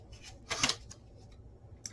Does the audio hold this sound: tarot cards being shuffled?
yes